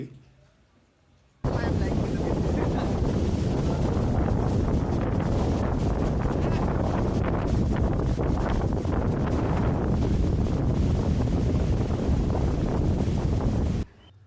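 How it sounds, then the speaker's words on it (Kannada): Strong wind roars across the microphone in a loud, continuous buffeting rush that starts abruptly and holds steady for over ten seconds, recorded at Horsley Hills in India. "ಗಾಳಿ ಎಷ್ಟು ಜೋರಾಗಿ ಬರ್ತಿದೆ ಅಂತ ನೀವು ಸ್ವಲ್ಪ ಸೌಂಡ್ ಕೇಳಿ ನೋಡಿ"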